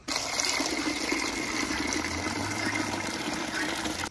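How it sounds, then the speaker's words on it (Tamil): Water runs steadily into a bucket, a continuous close gushing and splashing that fills the whole stretch, with no talk. "இந்த மாதிரி ஒரு பக்கெட்டில் வந்து முக்கால்வாசி தண்ணி பிடிச்சிக்கோங்க"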